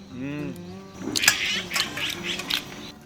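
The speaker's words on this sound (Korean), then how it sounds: "아 이런 새소리가 들어갔으면 좋겠다 이 영상에" A voice speaks briefly, then several bright bird calls and chirps ring out nearby in quick, irregular bursts on Gwanggyosan mountain.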